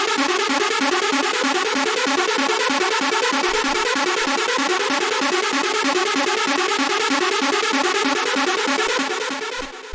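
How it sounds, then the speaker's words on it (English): A hard techno synth arpeggio plays a dense, rapid repeating pattern in polyrhythm, loud and continuous for about ten seconds with no voices, fading slightly at the very end. "After that, we have this ARP, which sounds like this."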